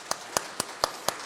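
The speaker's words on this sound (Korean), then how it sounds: "우리 한번 격려의 박수 한번 같이 하실까요?" Five sharp, evenly spaced claps ring out in a steady rhythm at a Korean church Sunday worship service, each crisp and close with quiet pauses between them.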